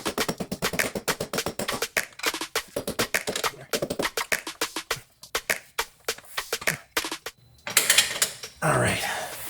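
Ratchet wrench spinning a bolt into the rear differential carrier of a 2020 Subaru WRX, rapid clicking runs in close, loud bursts with brief pauses, ending in a scraping rustle.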